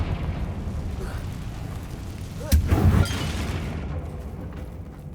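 A single Confringo blast spell in Hogwarts Legacy goes off against a worn bridge, a short booming burst rising over a steady bed of background noise and then fading quickly.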